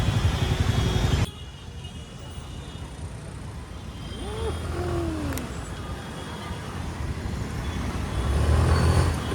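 Heavy road traffic at a busy Hyderabad market street, a steady broad rumble of passing cars, trucks and motorbikes that drops briefly then swells louder near the end, with faint horn-like tones midway.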